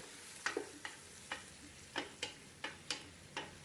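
Onions sautéing for chicken biryani over a medium flame, a quiet background sizzle punctuated by about a dozen sharp, evenly spaced spoon scrapes and taps against the pot, close by.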